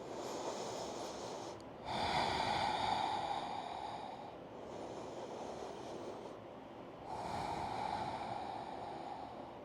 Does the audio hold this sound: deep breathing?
yes